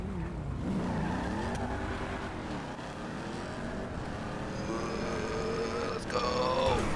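A street car in Grand Theft Auto V whines and shifts engine pitch while street racing as tires squeal and skid, with steady motor drone throughout.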